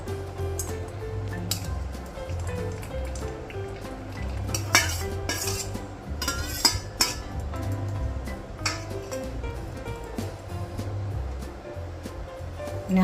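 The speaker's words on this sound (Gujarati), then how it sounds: "હવે આપણું ઘી ગરમ થઈ રહ્યું છે. આપણે એમાં આ ગોટલી બધી એડ કરી દઈશું." Mango seed kernels tipped into hot ghee in a pan, with clinks of utensils and metal pan scraping and stirring, busy and fairly close, with no talk.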